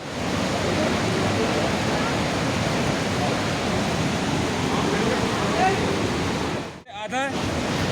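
The Saraswati river roars over rocks near Mana village, a loud, continuous broadband rush of whitewater that fills the scene, briefly dipping near the end as wind buffets the microphone.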